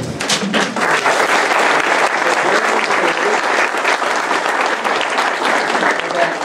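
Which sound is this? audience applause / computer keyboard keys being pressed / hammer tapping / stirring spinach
audience applause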